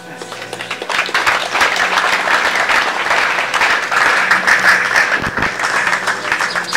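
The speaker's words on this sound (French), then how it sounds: "On continue d'acclamer s'il vous plaît" Sustained audience applause fills a mental health day ceremony in Kintambo, steady and loud clapping from a crowd with a few faint voices mixed in.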